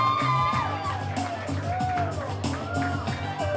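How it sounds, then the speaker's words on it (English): A lively crowd cheers, whoops and shouts encouragement to a man, with loud, continuous babble and raised voices throughout. "Come on, guys, cheer him on."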